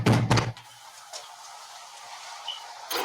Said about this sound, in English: they approach the front door and knock